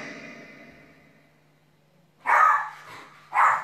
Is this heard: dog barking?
yes